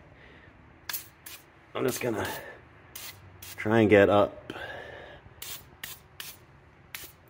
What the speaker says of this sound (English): I've never actually used the silicone spray before.